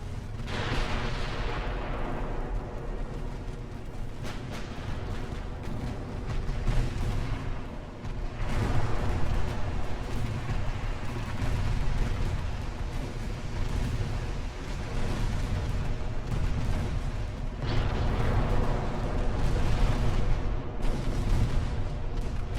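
Naval artillery from 1890-era warship hulls fires on a destroyer in Ultimate Admiral: Dreadnoughts, with loud, heavy booming salvos rolling into one another over a constant rumbling battle din and no speech.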